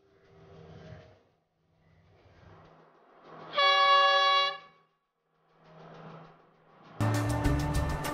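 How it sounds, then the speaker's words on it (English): At a station in Sri Lanka, a train bound for Badulla sounds a loud, sustained horn, then a second harsh blast after rumbling pauses, with no voices. "Our train bound for Badulla is waiting already"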